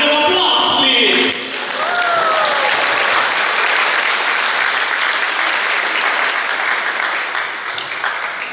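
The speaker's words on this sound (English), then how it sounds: "Why not together a round of applause, please?" An audience applauds at a high school graduation ceremony, with a loud, sustained wash of clapping filling the hall for several seconds. It fades slightly at the end, and a brief voice is audible at the start.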